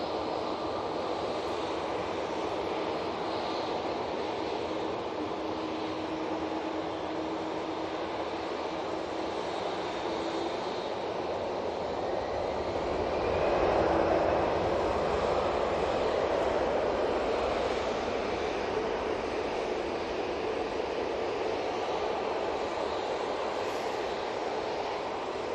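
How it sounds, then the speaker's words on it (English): An aircraft comes in to land at Manchester Airport, a continuous distant jet roar under steady outdoor ambience that swells slightly partway through. "we've got a few aircraft making their way for arrivals"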